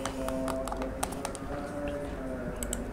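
Quiet, close clicking of computer keys as a title is typed, irregular bursts of taps over a steady low hum of background noise.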